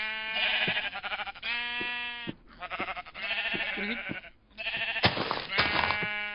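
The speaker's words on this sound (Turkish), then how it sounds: "Şansıma oyuna girdiğim anda yanımda 3, 4, 5 tane kuzu oldu" Several lambs in Minecraft bleat one after another, nasal wavering cries overlapping in close succession with short gaps, loud and near, with some game sounds mixed in.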